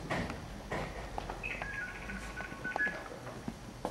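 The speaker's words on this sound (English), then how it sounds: "So you hear these noises if you dial a long-distance call." Electronic telephone tones sound in steady, overlapping pitches over a noisy background line, with a few brief higher beeps scattered through.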